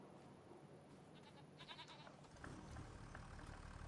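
Several farm goats by a hay pen let out bleats, faint at first and then a louder cluster of calls, with a low engine-like rumble underneath and no speech.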